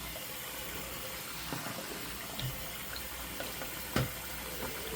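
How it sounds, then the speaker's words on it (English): Hot water pours onto shaving soap in a 3D bowl. A faint, steady watery hiss runs throughout with a few soft knocks, and no one speaks. "Let me go ahead and get some hot water on my soap Norton 3D bowl."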